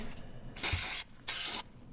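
A spray can hisses two steady bursts into a motorcycle trunk liner, each lasting about half a second with a short pause between, loud and close.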